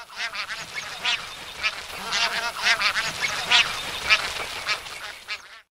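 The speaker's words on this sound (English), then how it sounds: "A bar-headed goose is a really attractive goose." Bar-headed geese honk in a rapid, repeated series of loud, close calls that overlap and continue for several seconds.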